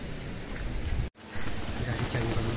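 Steady heavy rain hisses loudly and continuously, with a momentary dropout partway through before the downpour resumes.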